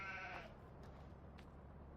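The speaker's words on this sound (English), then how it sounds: "We bought some more sheep, and now we have 14 sheep." A single sheep bleat in Farming Simulator 15, faint and short at the start, followed by quiet low background rumble.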